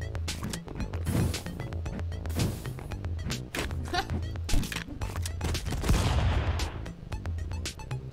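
Gunshots in the video game Stick Fight, dense rapid bursts of sharp cracks and crashes in quick irregular succession, with players talking excitedly over them.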